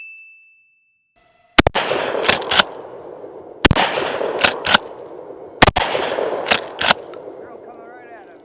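Remington 870 Marine Magnum pump-action shotgun firing outdoors at a drone, three loud sharp blasts a couple of seconds apart, each followed by metallic clacks of the pump action.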